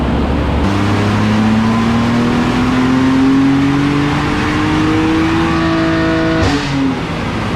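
A loud BMW M2 CS engine on a dyno revs steadily upward in a single long pull, the pitch climbing continuously before cutting off abruptly near the end.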